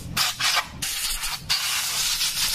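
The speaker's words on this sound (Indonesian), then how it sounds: "jadi ini kita semprot, tutup lubang ini, semprot" Cleaner sprayed in three sustained hissing bursts onto a disassembled Honda Beat Pop motorcycle engine with lost compression, close and fairly loud, with short gaps between bursts.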